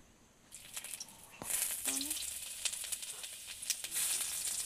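Whole tempering spices drop into about three teaspoons of hot oil in a wok, bursting into a loud, crackling sizzle that starts abruptly and keeps hissing and popping steadily.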